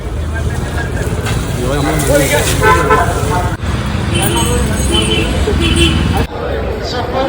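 A vehicle pushes through a dense crowd on a road during the Guruvayur elephant race festival, with repeated horn toots and engine noise over loud crowd chatter and a man calling out.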